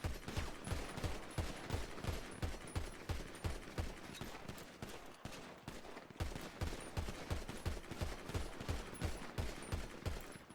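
Gunfire in a roleplay video game: rapid, regular shots fire in sustained bursts with a brief pause midway, heard at a fairly low level with no talking.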